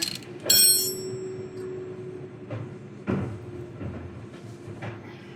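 A ratchet tightens a wheel back onto a Jeep Wrangler during a brake pad change, with a few short clicking and mechanical bursts spaced over a low background hum, no talk.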